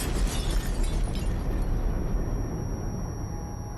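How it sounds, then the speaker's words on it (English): A powerful explosion as SS men blow up the last gas chamber at Birkenau, Auschwitz, heard as a loud, rumbling broadband roar that holds steady and then slowly fades. "Suddenly, the camp is shaken by a powerful explosion."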